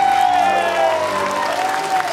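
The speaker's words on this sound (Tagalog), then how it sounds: "Palakpak tayo lahat para sa ating sarili." Live audience at a Lake Tahoe show applauding steadily throughout, a dense, continuous wash of clapping with faint crowd murmur, fairly loud and close.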